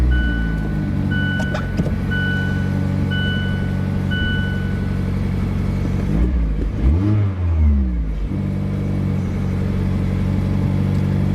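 Mazda MX-5 ND engine turns over and idles steadily, then revs up briefly around the middle with a rising and falling sweep before settling back to idle, close and loud with no talking.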